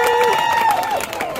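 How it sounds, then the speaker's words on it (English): A crowd at a Black Lives Matter rally in Portland cheers loudly up close, with a rising and falling whoop riding over scattered clapping and shouts in a short burst. "Y'all give them a round of applause"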